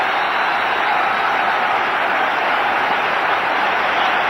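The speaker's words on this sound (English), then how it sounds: "And the crowd very appreciative." A cricket crowd applauds Azharuddin's innings with a steady, unbroken wash of clapping and crowd noise that holds at an even, loud level from start to finish.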